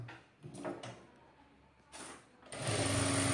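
A sewing machine stitches the shoulder seam of a frock, with a few short bursts of needle chatter at first and then a loud, steady run close by.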